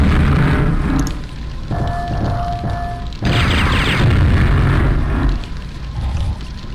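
Grenade launcher explosions in a video game boom loudly one after another, a dense roaring blast that keeps rumbling for several seconds with brief dips between hits.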